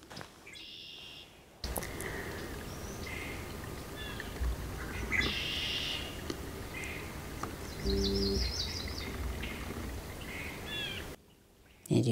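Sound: birds singing

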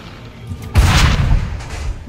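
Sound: cannon fire in Assassin's Creed 3 video game

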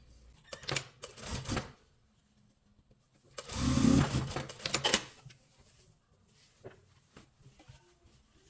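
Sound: sewing machine stitching a tailored collar coat

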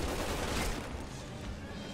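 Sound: sniper gunfire in the video game Resident Evil 6

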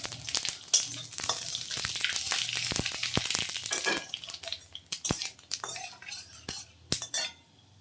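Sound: cumin and five-spice tempering sizzling in hot oil

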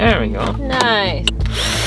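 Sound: drilling a pilot hole

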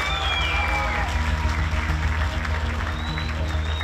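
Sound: audience applause at a fight competition

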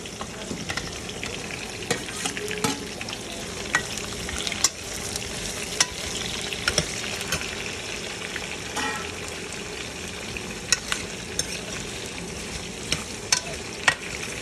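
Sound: garlic, ginger and onion frying in a pan for butter chicken

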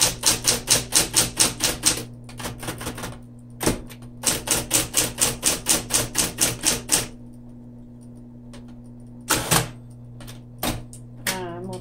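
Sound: 1970s Smith-Corona Electra 220 electric typewriter typing with red ribbon

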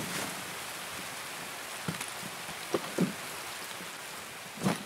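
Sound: rain falling in video game

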